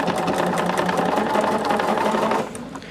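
A sewing machine stitches fabric pieces in a fast, steady mechanical whir with rapid needle ticks, loud and close, easing off and slowing near the end.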